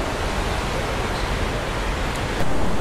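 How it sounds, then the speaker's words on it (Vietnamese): Mountain stream water flowing below a bamboo cave on a mountainside, a steady broadband rush that stays constant throughout and swells slightly louder near the end, with no talk over it. "Và bên dưới là tiếng nước suối chảy."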